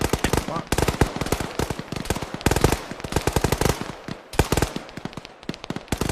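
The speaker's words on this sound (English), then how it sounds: "Shooting on your right." Gunfire crackles nonstop during squad combat training: rapid, loud bursts and overlapping single shots pile up in an irregular, dense barrage from several weapons close by.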